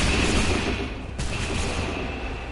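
Steady, dense gunfire volley from a PS4 video game, a loud continuous wash of shots with a brief dip partway through, no voices over it.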